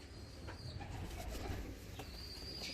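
Jumbo-sized young wing-post fancy pigeons, bred from the same line, coo in low murmurs against a steady loft background, with faint higher chirps and a brief wing flutter.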